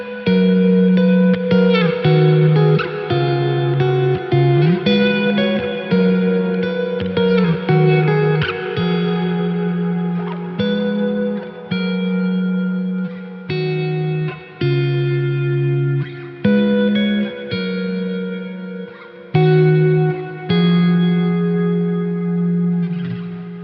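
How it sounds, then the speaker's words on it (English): Electric guitar played through a Keeley Omni Reverb pedal set for an infinite, pad-like sustain, with chords ringing into a continuous wash that fills the gaps between strums, loud and close throughout with no talking. "this just gives you that lovely pad-like, infinite sustaining feel behind what you're playing."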